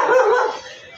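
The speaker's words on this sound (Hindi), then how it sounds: "बहुत देर से कुत्ता भोग रहा" A dog gives a single loud, close bark that trails off quickly into quiet.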